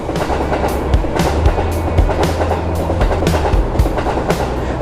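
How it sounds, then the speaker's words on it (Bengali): Kim Jong Un's armoured train running on rails: a loud, continuous rumble of wagons with rhythmic clickety-clack wheel beats at regular intervals, close and steady with no voices. "যখনই এই ট্রেন কোনো স্টেশনের পাশ দিয়ে যায়"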